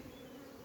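Brief, faint, steady hum of many honeybees buzzing in a crowded beehive super, a continuous droning swarm sound with no talking.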